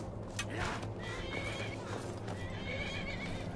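A horse neighs loudly and clearly over hoofbeats in the video game The Elder Scrolls V: Skyrim, with no talking.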